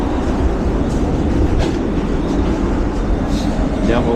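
A Manila LRT or MRT train carriage rumbles loudly from inside, with a continuous roar, faint rail clatter and brief wheel squeals, and a voice talks faintly beneath the noise.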